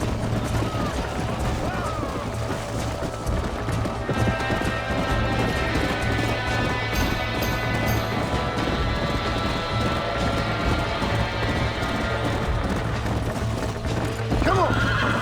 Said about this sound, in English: Hey, the stallion's getting away. Chase him down and bring him back.